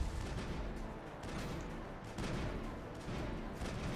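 Enemy rocket fire rumbles through a Mass Effect video game battle as a dense, continuous wash of blasts and booms, with no clear gaps, heard faintly and without talk.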